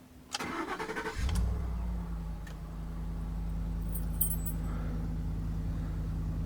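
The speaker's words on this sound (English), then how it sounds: "Now let's go ahead and start the engine." A 2011 Ford F150 King Ranch pickup cranks briefly with a rapid starter whir, fires up, and settles into a steady, close, low engine idle that carries on to the end; a faint jingle of keys comes just before the start.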